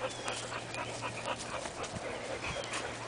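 Boxer dog whimpering and panting close by, soft breathy pants mixed with faint whines over a steady low hum, fairly quiet and with no talking.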